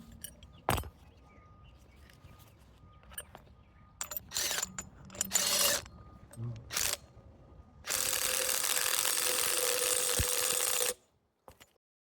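A trailer hitch on a Bad Boy Rambler is tightened down with a ratchet, close metallic clicks and bursts of ratcheting, then a sustained run of rapid ratchet clicking before a final clunk.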